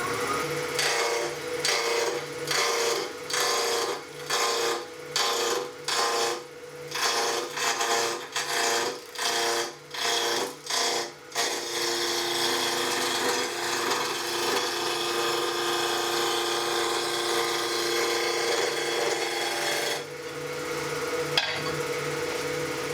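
A skew chisel turning a wooden handle blank on a lathe, with a steady whirring hum and rhythmic scraping cuts in the first half, then continuous smoother cutting and a brief knock near the end, no talking.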